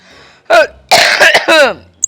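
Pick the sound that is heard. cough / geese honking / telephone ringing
cough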